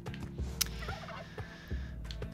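A turkey in Spelunky 2 gobbles in repeated rattling bursts, a few distinct calls over quiet game background, with no voices.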